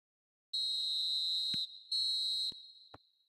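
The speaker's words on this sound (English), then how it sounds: "he's blown his whistle for half-time" A referee's whistle in the eFootball video game sounds for half-time: two long, shrill, steady blasts, a short one followed by a slightly shorter second, with a few soft knocks at the end and no talking.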